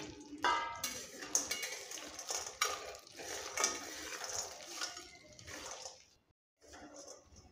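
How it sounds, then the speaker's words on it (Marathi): Dried dates roast in ghee in a pan while a spoon stirs and scrapes them, making quiet metallic clinks and a soft frying sizzle that pause briefly near the end. "जर तुपामध्ये अशा प्रकारे भाजून घेतली तर पूर्णपणे ही आतून बाहेरून अशी व्यवस्थित भाजल्या जाते"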